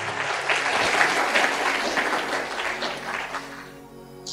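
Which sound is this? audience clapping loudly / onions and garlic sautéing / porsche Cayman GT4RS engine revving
audience clapping loudly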